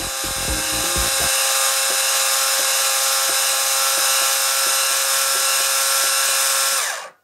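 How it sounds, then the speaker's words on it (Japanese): An electric shaved ice machine with a heater function runs at the power switch, shaving a Gari-Gari-kun ice pop with a steady, loud motorized whir and grinding buzz that holds for several seconds, with a few sharp knocks at the start, then stops abruptly. "あとは一番上の部分に電源スイッチがあるので、これを押せばもう電動で削れると思います。"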